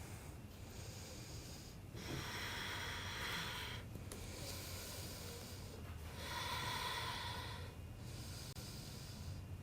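Slow, audible breathing of someone holding lizard pose in a yoga power flow, long airy inhales and exhales rising and falling in steady waves over a low background hum, close and moderately loud with no talking.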